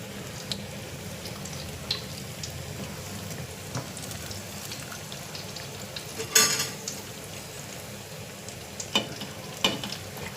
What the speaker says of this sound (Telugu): చూస్తున్నారు కదండి ఎలా ఫ్రై అవుతాయో ఇవి గోల్డెన్ కలర్ వచ్చే వరకు మనం నిదానంగా ఫ్రై చేసుకోవాలి